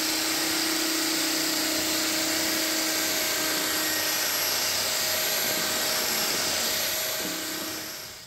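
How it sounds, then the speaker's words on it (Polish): A steady, loud power drill with a paint mixer paddle whirring continuously through paint, a high whine over a broad buzzing roar, easing off slightly at the end. "Ale najpierw na wiertarkę mieszadło i rozmieszać dobrze farbę."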